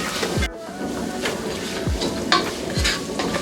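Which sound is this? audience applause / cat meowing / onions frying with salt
onions frying with salt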